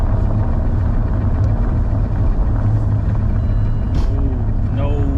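A BMW E92 335i idles with a steady, loud low rumble throughout, with brief voices and faint squeaks near the end.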